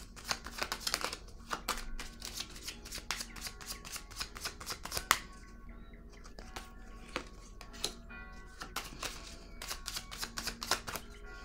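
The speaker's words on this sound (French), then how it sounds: "je vais piger une petite carte pour déposer" Playing cards drawn and laid down one by one for a solitaire-style spread, a rapid series of crisp snaps and slaps, close and fairly quiet, with no talk.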